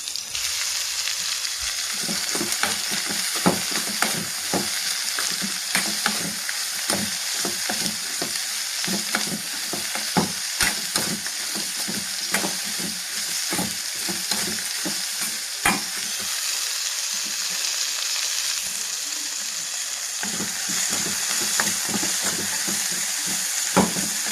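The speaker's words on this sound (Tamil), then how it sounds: "இந்த டைமில் நம்ம வாழைப்பூ கொத்தி கிண்டலாம்" Banana flower kootu fries in a pan under a dense, continuous sizzle, with constant rapid scraping and tapping from a stirring utensil, close and steady throughout, no voices.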